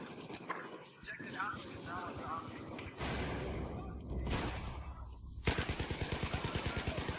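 Battlefield 4 multiplayer gunfire: scattered shots and bursts give way to sustained rapid automatic fire at the end, loud and close, with someone talking over parts of it.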